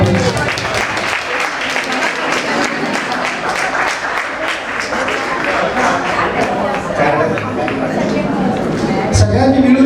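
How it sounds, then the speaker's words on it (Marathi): A crowd at a 1968-batch school reunion of Parle Tilak Vidyalaya applauds, producing sustained, dense clapping that holds steady for the whole stretch, with voices mixed in. "जोरदार टाळ्या वाजवा"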